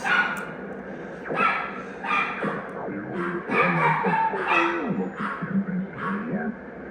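A dog barks and yips repeatedly in short irregular bursts, fairly close, with some whimpering between barks and no clear talk.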